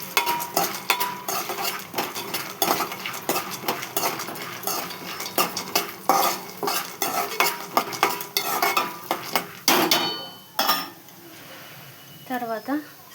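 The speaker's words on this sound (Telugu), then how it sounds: "తర్వాత పుట్నాలు ఇందులో పోసుకోవాలి. ఇది తొందరగా చేయాలి." Roasted gram poured into a metal pan and stirred quickly, a dense run of rattling, scraping and clinking up close that thins out near the end.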